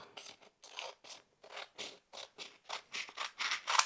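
Scissors snip through stiff paper coated with polyacrylic spray in a series of close, crisp cuts, about a dozen short strokes in an irregular rhythm.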